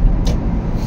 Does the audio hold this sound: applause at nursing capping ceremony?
no